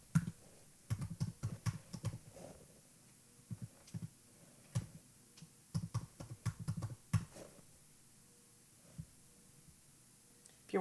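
Keys on a computer keyboard are tapped in quick irregular bursts of close, crisp clicks, broken by short pauses and a few single taps toward the end.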